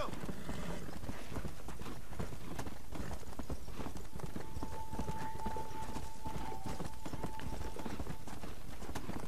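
Horse hooves clip-clop in Red Dead Redemption: Undead Nightmare, a steady rapid galloping rhythm that fills the whole stretch, with game ambience and a faint sustained tone partway through.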